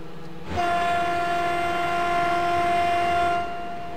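A locomotive in a train simulator video game sounds a long, loud steady horn note that starts abruptly, holds for about three seconds, then cuts off, over a low rumbling hum.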